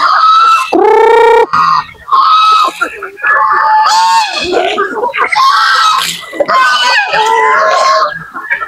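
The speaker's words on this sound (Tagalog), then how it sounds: "Ingay ng mga gansa mga idol." Loud, raucous geese honk and squawk repeatedly close by, a noisy flock calling over one another with a few harsh screams.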